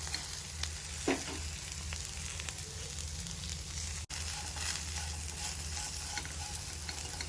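Tindora (ivy gourd) pieces fry in an open pan with chilli powder added, a steady close-up sizzle with occasional stirring scrapes and one brief dropout, with no talking.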